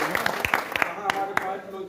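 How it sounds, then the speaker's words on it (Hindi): Brief scattered clapping from a gathered crowd at a drivers' meeting, a few uneven hand claps rising and fading while a voice keeps talking over them. "ताली"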